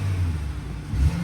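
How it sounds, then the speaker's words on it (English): A 2.4 liter truck engine revs briefly at an auction lot in the rain, a low rumbling swell that rises and surges again near the end, steady and fairly close with no one talking. "Let's give it a little rev."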